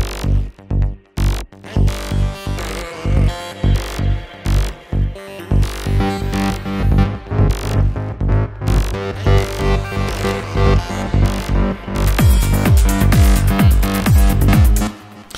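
Psytrance bass synth pulsing in fast, driving repeated notes under a dense electronic mix, loud and throbbing throughout, growing fuller and brighter toward the end with no voices.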